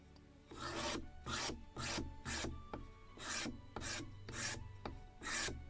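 Rhythmic rasping strokes of scraping and sanding on a wooden yard for a Model Shipways kit of the 1776 gunboat Philadelphia, about nine even back-and-forth passes close by, alone with no talking.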